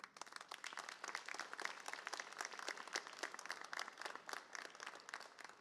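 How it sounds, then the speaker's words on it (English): A graduation ceremony audience applauds, dense clapping from many hands filling the space continuously and evenly for the full stretch, with no voices over it. "I want you to give your village a round of applause"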